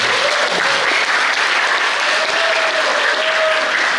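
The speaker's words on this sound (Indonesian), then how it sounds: "Kita beri aplaus untuk beliau semua." An audience at a seminar on elections claps together in a dense, steady burst of applause, loud and sustained for several seconds without voices.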